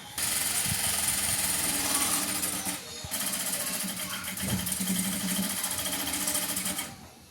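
A sewing machine stitches the shoulder seam of a nightie in a loud, steady, close whirring run. It pauses briefly midway, then runs on again before stopping.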